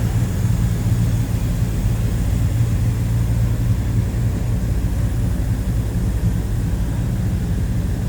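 Steady, deep idle from the 350 small-block V8 of a 1968 Chevrolet Chevelle Malibu hardtop, an even, close drone holding unchanged throughout with no voices.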